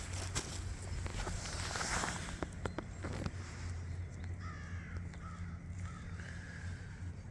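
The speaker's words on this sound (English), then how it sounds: "Do you hear that? Caw, caw." A crow caws several times at moderate distance outdoors in a snowy February woodland, harsh calls standing out over steady background noise and occasional footstep-like crunches.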